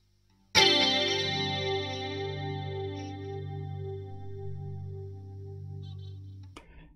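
An electric guitar through an Electric Mistress flanger set to sound like chorus: one struck chord, close and alone, shimmering and swirling as it rings for several seconds before cutting off.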